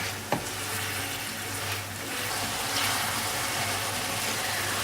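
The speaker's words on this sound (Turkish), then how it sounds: "Bir tahta kaşık yardımıyla kıymamızı ezerek kavurma işlemine devam ediyorum." Minced meat and onions fry in a pan with a soft, continuous sizzle, and a wooden spoon presses and stirs through them with a single sharp knock near the start; no voices.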